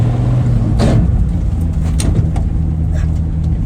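A 1960 Ford F100 pickup truck drives along, its engine a loud, steady low drone with road noise and occasional clunks and rattles, heard from inside the cab.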